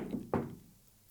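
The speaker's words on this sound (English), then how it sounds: "I've just knocked that piece of timber out there" A piece of timber is knocked out of a juniper bonsai during wiring work, giving a single sharp, close wooden knock that fades quickly into quiet.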